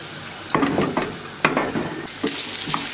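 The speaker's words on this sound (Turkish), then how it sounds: "Patatesler bitene kadar bu şekilde kızartmaya devam edeceğim." Potatoes sizzling and frying in a pan, with intermittent scraping and stirring clatters over a constant hiss.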